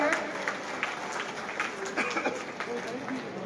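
Applause for a fallen soldier's family at an outdoor patriotic tricolour rally in Bhadra, a continuous moderate crowd clapping with scattered louder claps and some voices mixed in.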